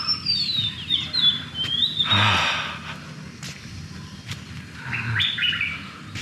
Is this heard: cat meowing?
no